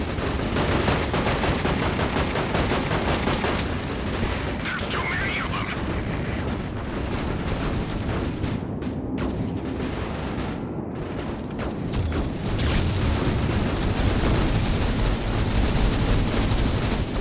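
Gunfire rattles without a break in a zero-gravity tactical shooter game, with dense rapid bursts and booming impacts that fill the whole stretch at high volume. Voices are occasionally heard beneath it.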